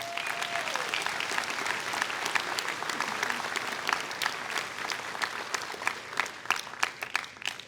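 A large audience applauds at a winter graduation ceremony, dense and sustained clapping with individual sharp claps popping out, and a brief voice is heard at the start.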